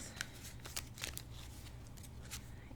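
Soft papery riffling and snapping of tarot cards being shuffled nearby, a few quick bursts over a quiet background hum.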